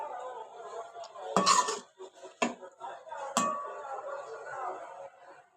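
Beef is stirred with a cup of water in a pot, giving a few distinct metallic clinks and scrapes of a spoon against the vessel, with someone speaking throughout.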